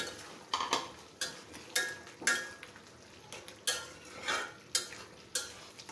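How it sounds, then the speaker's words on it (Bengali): Spatula scraping and stirring in a pan while onion, garlic and shrimp curry with pumpkin fries, a series of sharp metallic scrapes about twice a second over a faint sizzle. "দিয়ে দিব আরও কিছু পেঁয়াজ কুচি পেঁয়াজ রসুন দিয়ে ভালোভাবে আর একটু কষিয়ে ঝোল দিয়ে দেব"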